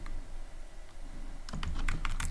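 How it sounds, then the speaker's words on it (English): Rapid keystrokes on a computer keyboard while writing Python code, a burst of close clicks following a soft muffled stretch. "and I'll type here"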